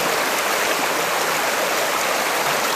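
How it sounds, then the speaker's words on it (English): Fast-flowing stream water rushing through a flared gold sluice box, a dense, loud, continuous roar without pause, close and with no voices. "we found some fast water here."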